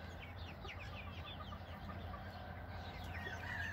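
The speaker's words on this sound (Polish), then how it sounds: "Sześciotygodniowe kurczaczki." Six-week-old chicks cluck and chirp steadily in a coop, a dense chorus of short calls over a low background rumble.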